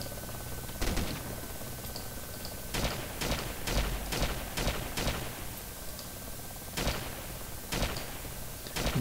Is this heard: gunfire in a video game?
yes